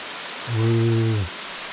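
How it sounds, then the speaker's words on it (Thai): The second tier of Than Thip waterfall gives a steady, hissing roar throughout, broken by a short humming tone in the middle. "น้ำตกทานทิพย์ชั้นที่สอง"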